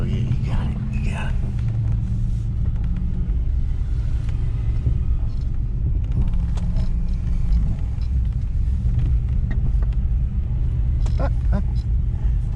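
Coyote-swapped car engine idling with a steady low rumble throughout, close and loud, a few faint voices murmuring over it.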